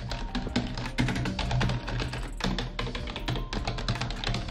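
Typing on a louder Logitech keyboard, brisk clattering keystrokes in quick irregular bursts, close up and without any voices.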